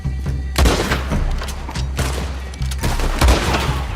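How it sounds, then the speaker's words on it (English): Several heavy, booming gunshots from Red Dead Redemption 2 ring out at irregular intervals, each with a low thump and lingering echo, loud and close with ambient outdoor noise between. "I can shoot you from very far away."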